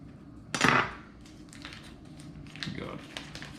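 A knife clacks sharply against a dish while cutting pats of butter in a kitchen, one loud knock followed by lighter taps and scrapes, with a voice speaking faintly underneath.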